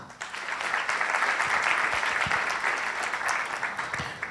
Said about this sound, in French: Je vais demander pour nous applaudir